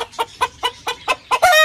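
A hen settled down to lay eggs gives six evenly spaced, short clucks up close, the last one stretching into a louder, drawn-out squawk.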